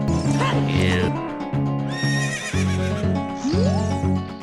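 Horse neighs loudly in Ocarina of Time 3D on the Nintendo 3DS: a long whinny with falling and rising pitch, layered over game music and clip-clopping hooves.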